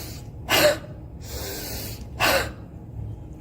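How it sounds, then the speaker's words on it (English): Two deep, forceful inhalations are drawn during a breathing exercise for COVID-19 recovery, each a short rushing breath separated by a longer, softer exhale, close and clear. "Take deep inspiration"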